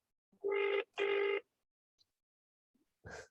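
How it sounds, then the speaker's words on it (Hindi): Two long bursts of a telephone bell ring out clearly and fairly close, each lasting under a second, followed by silence and a brief faint noise near the end. "मेरा फोन तो नहीं बज रहा, किसी का फोन बज रहा है।"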